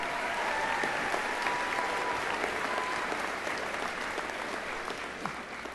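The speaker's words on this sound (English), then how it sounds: "They need one more round of applause." Sustained audience applause at a college commencement ceremony fills a large hall, broad and even clapping from a big crowd that continues throughout with faint cheering underneath.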